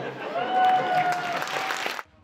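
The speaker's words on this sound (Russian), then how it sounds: "На каждую шутку зал реагировал бурными аплодисментами" A hall audience at a KVN comedy league semifinal bursts into loud, dense applause that fills the room, then cuts off abruptly near the end.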